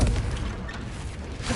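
Confringo spell explosion in Hogwarts Legacy, a loud broadband boom at the start that decays into a rumbling wash and swells slightly again at the end.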